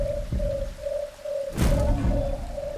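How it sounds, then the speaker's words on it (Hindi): A mythical nocturnal bird in a forest calls in a steady, repeating hooting tone, with a louder burst of sound partway through. "ये पक्षी तो निशाचर पक्षी नहीं?"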